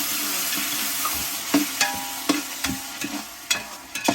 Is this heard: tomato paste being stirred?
yes